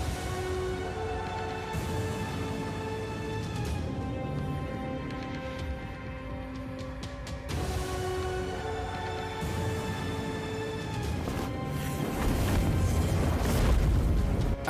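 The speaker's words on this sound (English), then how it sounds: "the warlock is ready to do some massive damage using his AoE spell, Fireball." A Fireball area-of-effect spell explodes in the dark fantasy strategy game Mordheim: City of the Damned, with a sustained rumbling burst over game music, swelling louder near the end.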